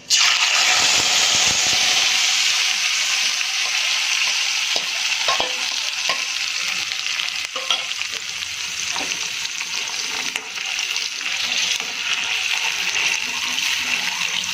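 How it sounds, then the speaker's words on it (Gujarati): Prepared gravy for dum aloo poured into a hot pot and stirred, giving a loud, steady sizzle and bubbling over a gas flame on full, with scraping stirs throughout and no talking. "ત્યારબાદ આપણે જે ગ્રેવી રેડી કરી છે એને આપણે આમાં એડ કરી દઈશું"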